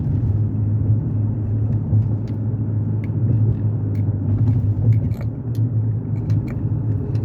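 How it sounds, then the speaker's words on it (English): Road traffic rolling through a highway tunnel on 93 South in Boston, a steady enclosed engine rumble with a low droning hum and occasional faint clicks and rattles, no talking. "There's a good amount of traffic here."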